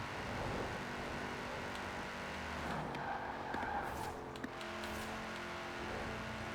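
Engine and exhaust of a car in a racing video game, a gurgling, rumbling drone at a steady close level with small rises and dips as the car powers along, no talk over it.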